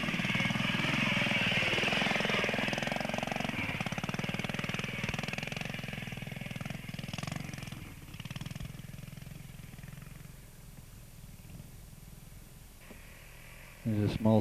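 A Matchless motorcycle at a classic bike trial in Yorkshire, its engine note running steadily and fairly loud throughout, with a louder burst right at the end and a commentator speaking over it.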